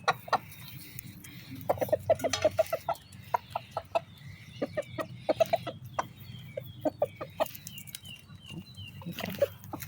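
Chickens cluck and chatter in a loose, irregular rhythm at close range, soft and steady over low background rumble, with no talking.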